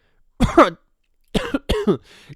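Three harsh coughs close by, one on its own and then two in quick succession, with silence between them.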